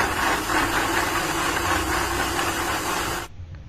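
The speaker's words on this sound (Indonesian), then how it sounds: "Masukkan ke dalam blender, tambahkan air, lalu kita haluskan." A kitchen blender purees raw garlic and spices with water, a loud, steady whirring roar that runs continuously before cutting off abruptly near the end, leaving only faint room noise.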